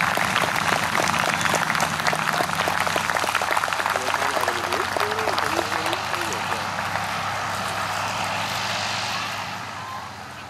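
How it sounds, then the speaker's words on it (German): Crowd applause at an air show, cheering an aerobatic team after its flight, continues steadily under a loud announcer's voice, while a propeller aircraft engine drones nearby and the clapping slowly dies away toward the end. "Einen herzlichen Applaus für das Team Walter und Tobi Eichhorn"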